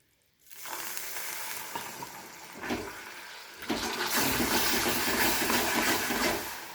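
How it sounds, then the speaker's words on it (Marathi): Water hits melting jaggery in a hot pan, setting off a loud, steady sizzling hiss that swells partway through and keeps roaring until it eases slightly at the end. "थोडंसं मी पाणी टाकून घेते"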